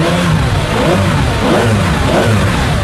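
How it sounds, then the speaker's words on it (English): A Ferrari Enzo's V12 engine revs loud and close in a continuous, rising roar that fills the whole stretch. "Because to listen to that V12 in the back"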